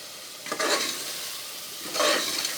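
Spicy mutton gravy fries in hot oil as a spoon stirs it in the pan, steady sizzling with two louder scraping stirs, close and alone without speech.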